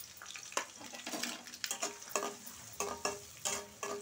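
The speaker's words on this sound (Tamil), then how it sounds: "வெங்காயமும் பச்சை மிளகாயும் சேர்த்துடலாம்." Onions and green chillies frying in a pan for tomato rice, a steady close sizzle broken by sharp scraping stirs and clicks of a spatula against the pan.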